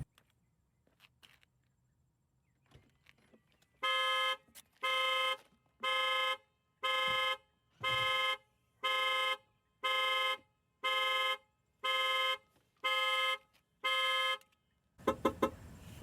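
A Tesla Model 3 alarm sounds its horn in about eleven evenly spaced, loud honks, each lasting roughly half a second, following a quiet stretch with faint rustling.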